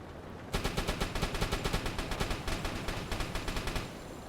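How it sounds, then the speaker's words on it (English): An aircraft strafes with a machine gun in the UBOAT submarine video game, a steady rapid rattle of evenly spaced shots. The burst is loud and sustained for several seconds without speech. "Oh wow, and it's shooting at us too."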